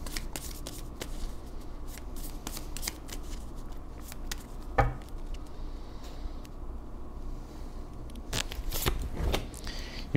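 Tarot or oracle cards are shuffled and drawn in a quiet room, giving soft repeated riffling and flicking clicks at uneven intervals, with a sharper slap near the middle and a burst of rapid snaps toward the end.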